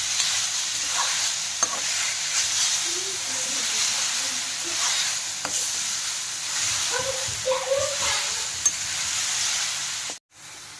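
Dried jute leaves (shukuta) fry with rice in a pan, a steady close sizzle and hiss punctuated by stirring scrapes and clinks, ending in a sudden clatter near the end.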